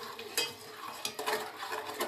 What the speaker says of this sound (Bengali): রান্না করতে নাড়তে হবে যাতে পুডিংটা ক্যারামেলটা যাতে পুড়ে না যায়